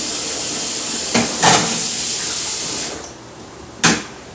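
Cold tap water pours steadily over beans being rinsed for a beef and tomato bean stew, a continuous splashing hiss broken by a couple of brief louder gushes.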